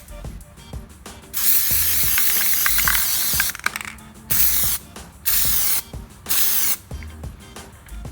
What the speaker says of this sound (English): now we're going to spray the Plasti Dip